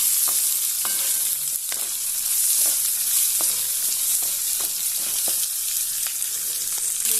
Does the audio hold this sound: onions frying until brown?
yes